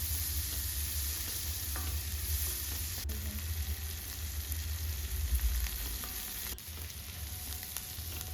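Chopped onions fry in a pan for methi matar pulav, giving a soft, steady sizzling hiss throughout, fairly quiet and close, with no talking.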